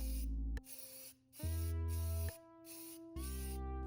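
An aerosol can sprays metallic silver paint onto a model spacecraft shell in short hissing bursts of about a second each, separated by brief pauses, close and clear with no talk.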